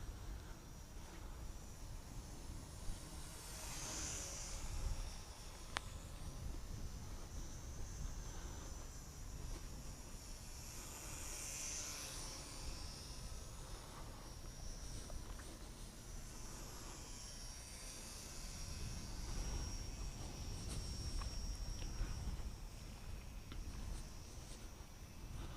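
A small TOP RC Hobby SF260 radio-controlled model airplane flies at just over half throttle, its faint, steady electric motor whine drifting and swelling as it passes at a distance.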